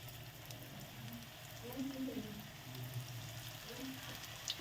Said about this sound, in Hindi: तो ऑयल को लो टू मीडियम फ्लेम पर गर्म करेंगे और इसमें डालते जाएंगे मज़ेदार स्नैक्स